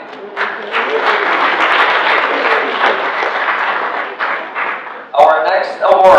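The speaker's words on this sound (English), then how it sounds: "Let's give it another applause for Mike." Audience applause for Mike fills a breakfast awards meeting, a dense, steady wash of clapping lasting several seconds before a voice starts speaking near the end.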